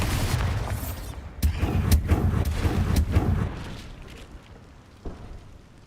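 Spell blasts in Hogwarts Legacy combat: a sharp crack followed by a rumbling run of heavy explosive bursts that trail off, then a final single thump, loud and close with no voices.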